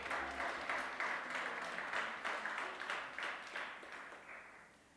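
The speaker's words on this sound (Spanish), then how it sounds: "Aleluya, denle un aplauso al Señor." Church congregation applauding together during a sermon, a steady wash of many hands clapping at moderate distance that slowly fades toward the end, with no voices over it.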